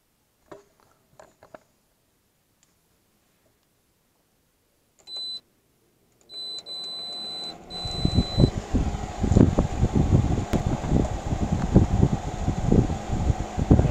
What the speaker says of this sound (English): this is going to be the startup and running wattage of this particular model of a 6000 BTU window air conditioner.